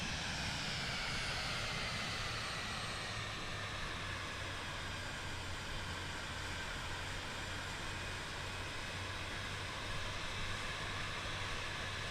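An airplane engine drones steadily in Microsoft Flight Simulator 2024, a constant broad roar with a low hum, heard alone and unchanging throughout.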